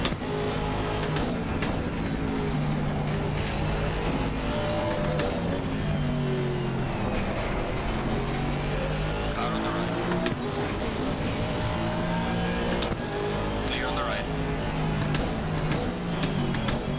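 Race car engines from Assetto Corsa Competizione, including a McLaren, roar continuously and loudly, with rising and falling pitch sweeps as cars accelerate and shift through a corner, and there is faint tire noise.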